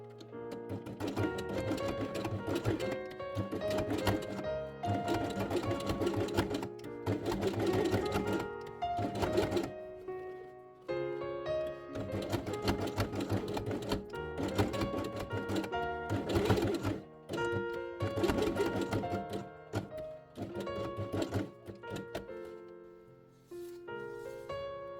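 A sewing machine stitches felt pieces together along their edges for a handmade nativity-scene quiet book page, running in steady mechanical bursts with brief pauses between passes, close and clear with no talking.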